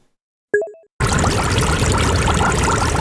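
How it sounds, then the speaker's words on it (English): After a short synth blip, a waterfall sample auditioned in Bitwig bursts in abruptly, a loud dense continuous rush of falling water that cuts off sharply at the end. "2 gigabytes of waterfall audio"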